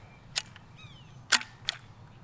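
.50 caliber air pistol being cocked, three sharp metallic clicks spaced apart, close and crisp, with a faint ringing tone between the first and second.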